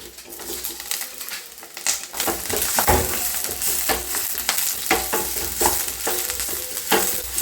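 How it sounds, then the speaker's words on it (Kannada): Onion, dry red chillies and curry leaves frying in hot oil in a pan, a loud crackling sizzle broken by repeated scraping stirs and clattering strokes against the pan. "ಈರುಳ್ಳಿ ಹಾಕ್ಕೊಂಡು ಚೆನ್ನಾಗಿ ಫ್ರೈ ಮಾಡ್ಕೊಳ್ಳಿ"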